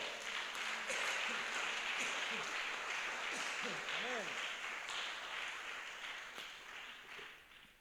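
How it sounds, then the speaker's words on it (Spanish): A church congregation applauds in a broad, steady wash of clapping that stays loud and close for several seconds before easing off, while a voice keeps speaking underneath it. "Dar un aplauso al Señor."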